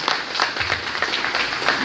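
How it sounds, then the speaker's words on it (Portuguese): A church congregation claps together, a dense, continuous patter of applause filling the room for a short burst. "Então vamos aplaudir a Jesus aí."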